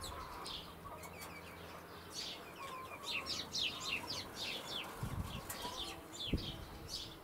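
Sparrows bathing on a morning, with busy chirps and short tweets over soft fluttering and splashing of wings, fairly close, plus a couple of brief thumps near the end.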